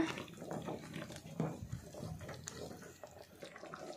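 Water splashes into a pan of spicy chicken Kolhapuri curry on the stove, a steady close trickle and sizzle with no talk.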